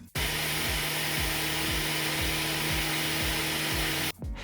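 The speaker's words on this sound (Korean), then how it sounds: "카펫 청소기에 뜨거운 물을 분사시킨과 동시에 강력한 흡입력으로 오염수를 시원하게 뽑아줍니다" A carpet extractor sprays hot water and sucks up dirty water while a car's carpet is cleaned, giving a loud, steady roaring whoosh with regular rhythmic strokes underneath, cutting off abruptly near the end.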